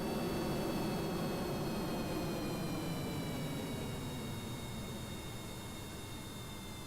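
A jet aircraft engine in Kerbal Space Program drones with the afterburner off, a steady broad roar with faint high whining tones that eases slightly lower over several seconds, no voices.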